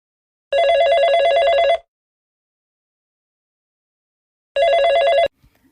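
A telephone rings for an incoming caller on a call-in talk show, two loud electronic ring bursts separated by a few seconds of silence, with no talk over them.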